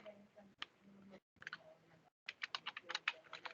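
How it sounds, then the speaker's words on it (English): Close, crisp keystrokes on a computer keyboard during drafting software work, arriving in short irregular bursts with brief pauses between, the last stretch a quicker run of sharp taps. "So that is the reason I'm typing this"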